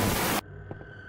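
Loud, dense static white noise in the SCP-087-B video game fills the first 0.4 seconds and cuts off abruptly. Quieter hum and a couple of faint knocks follow.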